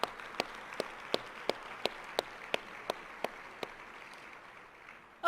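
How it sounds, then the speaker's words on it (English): Steady, evenly spaced hand claps, about a dozen crisp strokes that slowly fade, ringing out in a quiet room at a women's giving luncheon in honour of elected public servants. "let's give them a round of applause."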